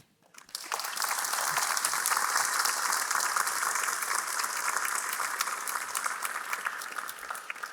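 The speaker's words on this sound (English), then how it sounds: "please join me in giving a big applause to thank our 2 distinguished guests" An audience claps for two distinguished guests at a life-science prize lecture, the applause swelling quickly after a brief quiet start and holding as a full, sustained wash to the end.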